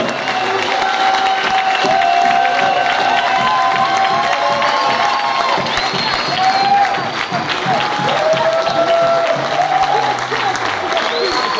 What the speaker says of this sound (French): A Gesù dai un applauso forte.